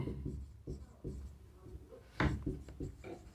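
Pen or chalk writing out a Class 10 arithmetic progression math problem, with scattered scratchy strokes and taps, including one sharper scrape, close and moderately loud over a low background hum.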